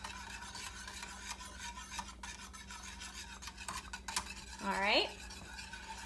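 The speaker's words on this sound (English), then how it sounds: "And the stirring continues." A spoon stirs a milk mixture for MCT butter in a pot over medium heat, with a soft continuous scraping and an occasional light clink, close and quiet; a voice speaks briefly.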